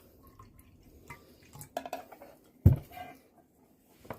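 Water poured from a container into an MRE drink pouch, heard as faint, scattered drips and a short splashy pour with a sharper splash near the middle, quiet and close with no talking.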